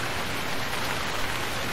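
Steady rain falling in the video game Stranded Deep, a dense, even hiss of drops with no breaks and no voices over it.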